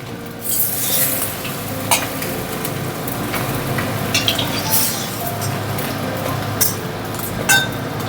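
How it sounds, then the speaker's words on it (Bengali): Eggs fry in hot oil in a kadai, a steady close sizzle and crackle broken by occasional clinks and scrapes of a metal spatula against the pan. "বন্ধুরা এই যে ডিমগুলো ঠিক এইভাবে ভেজে নেব।"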